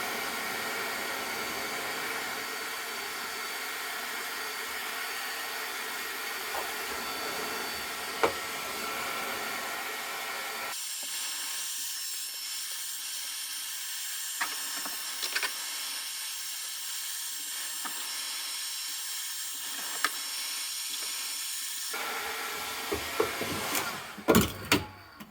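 Heat gun blowing hot air while stripping the cab interior of a 1983 208D T1 van, a continuous airy whine and hiss whose pitch shifts between sections, with faint scraping and knocks near the end.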